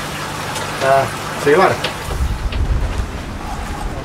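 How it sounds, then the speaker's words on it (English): Steady rain and gusty wind buffet the microphone outdoors beside a koi pond, with a person briefly speaking near the start before low rumbling wind noise takes over. "It's raining now. It's windy"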